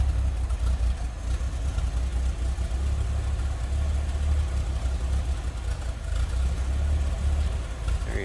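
A 1930 Chevrolet engine idles steadily with a low, rumbling hum that holds at an even level throughout, close by and without pauses.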